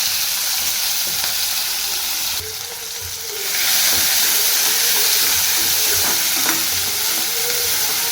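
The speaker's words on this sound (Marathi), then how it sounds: "तेल गरम झाले, जिरे टाकूया." Cumin seeds dropped into hot oil, a loud continuous sizzling hiss that jumps up when the seeds hit the pan and stays steady and close.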